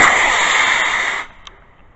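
Estes Big Bertha model rocket motor ignites and launches with a loud, steady roaring hiss that holds for over a second, then abruptly fades to quiet outdoors as the rocket climbs away.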